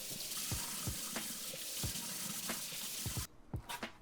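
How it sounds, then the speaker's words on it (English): Running tap water washes celery sticks and carrots in a kitchen sink, a steady near splash with occasional knocks of the vegetables, then a brief break and resumed flow toward the end. "we're going to go ahead and wash the celery sticks as well as the carrots."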